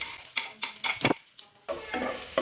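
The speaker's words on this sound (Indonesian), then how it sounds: "Kemudian kita masukkan bawang putih." Garlic dropped into hot oil in a pan, bursts of crackling sizzle with scraping stirs, short and close, no speech.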